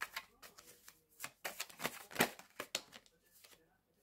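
Tarot cards are shuffled and drawn up close, producing a quiet, irregular patter of snaps and riffles with a sharper flurry in the middle before everything trails off into near silence.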